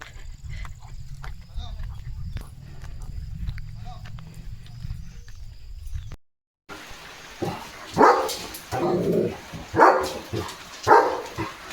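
A German Shepherd dog gives a few loud, close barks in separate bursts during the second half, after a quieter stretch of background noise, with people talking around it.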